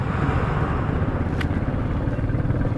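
Several motorcycles on an Aftar Riding Club group ride near Bolpur, Santiniketan, roar together in a steady, loud broadband engine drone with wind rush and no pauses.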